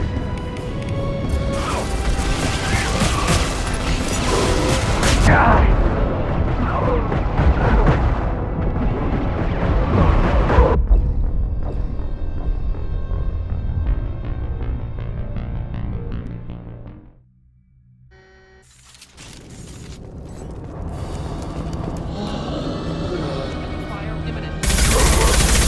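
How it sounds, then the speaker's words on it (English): Heavy gunfire from Mass Effect 2 combat, dense bursts of automatic fire and blasts that keep on continuously, with a brief lull near the end before the shooting resumes, and voices calling out over it. "Heavy fire!"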